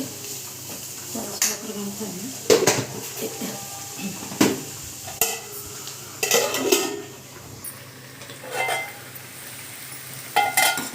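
A spoon scrapes and clatters in a pan of carrot fry, in intermittent close stirring strokes with soft sizzling underneath and occasional metal knocks.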